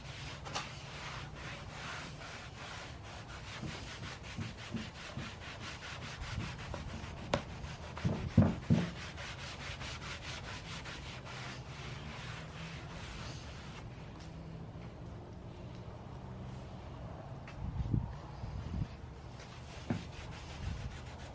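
Wax is rubbed and buffed by hand into a wooden nightstand's surface with steady, soft, close scrubbing strokes that continue quietly throughout, broken by a few brief louder knocks.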